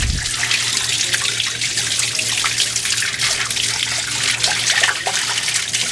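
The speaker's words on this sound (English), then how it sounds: "I'm gonna give it a clean with the hose" Hose water splashing steadily over a giant quartz pseudomorph, a continuous close rinsing hiss with a low hum underneath and no voices.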